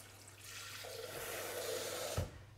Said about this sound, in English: you could easily just pop some water in this bowl